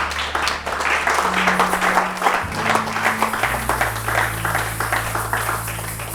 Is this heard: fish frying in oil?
no